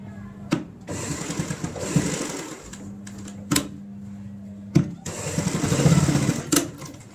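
A sewing machine stitches a fabric tote bag strap about half to three-quarters of an inch from the edge, running in short mechanical bursts separated by pauses and sharp clicks, close by, with no talk.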